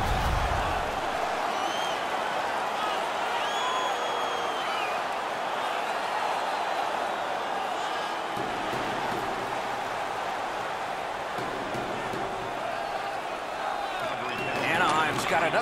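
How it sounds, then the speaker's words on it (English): A home crowd roars continuously inside an arena during an NHL 19 hockey game between the Calgary Flames and Anaheim Ducks, a loud, steady wash of cheering and noise with commentary voices over it. "The home crowd is ecstatic."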